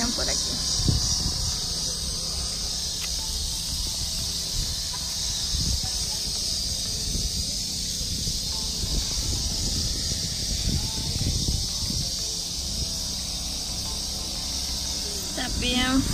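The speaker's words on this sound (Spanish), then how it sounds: "Y oigan las chicharras" Steady high-pitched insect buzzing of cicadas fills the background, continuous and loud, with low rumbling noises and handling sounds beneath.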